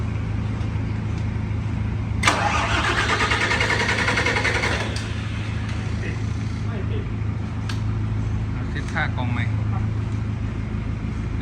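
A Toyota 6UZ V8 engine that will not fire cranks for about three seconds, a rapid, rhythmic whirring churn, with someone talking before and after the attempt.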